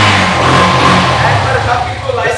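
A Yamaha FZ motorcycle engine runs and revs close by in a steady, loud drone, with a person talking over it.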